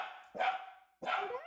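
Two sharp dog barks ring out close by, the second following after a short pause, with no talk over them.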